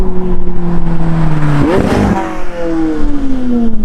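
A McLaren 675LT on its stock exhaust revs up close and loud, rising sharply, then snapping off to a crackle, then climbing again in a smooth drawn-out pull.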